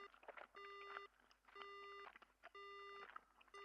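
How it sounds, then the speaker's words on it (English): Alarm-clock beeping from a clock in the Death Mark horror video game, sounding in three loud, evenly spaced bursts of rapid electronic beeps with softer background noise between them. "now we're hearing the clock"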